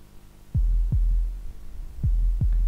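Video game heartbeat sound effect, four deep thudding beats in two doubled lub-dub pairs over a low steady hum, close and prominent with no talk.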